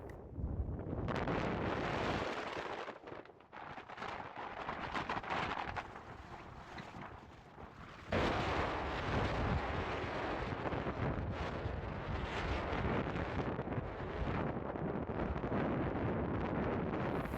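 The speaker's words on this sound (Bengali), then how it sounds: "প্রচণ্ড হাওয়া দিচ্ছে" Strong wind buffets the microphone in the White Sands desert of New Mexico, a loud continuous roar that dips briefly and then surges back even harder.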